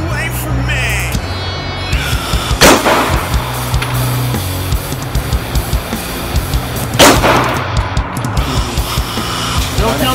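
Rifle shots fired at a distant target outdoors, two sharp loud cracks several seconds apart, over steady background noise and people talking.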